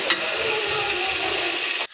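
Fried rice seasoned with salt and pepper sizzles steadily in a pan at a picnic cookout, a loud continuous hiss with stirring scrapes throughout, cutting off sharply near the end.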